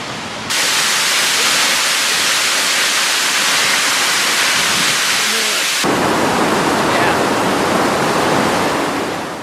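A waterfall in Iceland pours over an ancient sea cliff where the coast has risen from the waves, a loud, dense, continuous roar with an abrupt shift in tone partway through and no voices.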